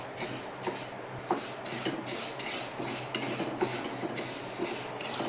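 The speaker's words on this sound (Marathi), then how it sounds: "एकदा डाळ तापली मग बारीक गॅस करून भाजायची डाळ." Moong dal roasting in a kadhai over a low flame, stirred with a metal spoon, giving continuous scraping and rattling with frequent clinks of metal against the pan, close and steady.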